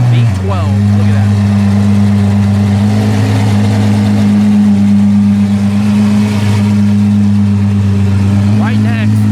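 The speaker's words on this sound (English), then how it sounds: "Naturally aspirated V12." A naturally aspirated V12 car engine idling loud and close with a steady deep drone, a brief rev at the start and another near the end, while people talk nearby.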